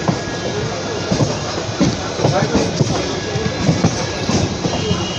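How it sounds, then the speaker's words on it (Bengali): A local train rumbles loudly along the rails with irregular clickety-clack knocks as the wheels run over track joints and points while changing lines on a bend; a voice speaks faintly. "দেখুন কার্ভ লাইন চেঞ্জ করছে ট্রেন আমাদের"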